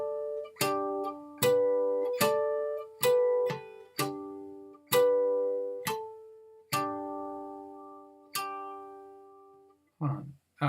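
Guitar harmonics ringing out the fourth line of the hymn "Down to the River to Pray", a slow melody of bell-like chiming notes that sustain and overlap. Close and clear, ending with a brief muffled handling noise.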